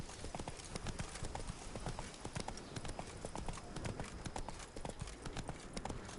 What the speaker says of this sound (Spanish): No, no va más rápido el caballo.